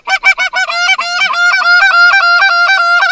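A flock of geese, including specklebellies, honks loudly and repeatedly during a hunt, overlapping calls forming a continuous chorus close by.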